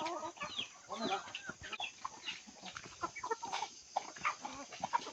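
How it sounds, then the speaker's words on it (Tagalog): A flock of chickens clucking and squawking on a farm, a busy overlapping chatter of many birds that continues without a break and stays fairly faint. "Marami pa tayong manok dito eh."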